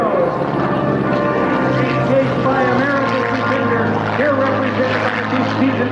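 A World War II P-51 Mustang flies at a 1994 Commemorative Air Force airshow in Frederick, Maryland. Its piston-engine propeller drone is loud and steady, with a deep rich roar throughout.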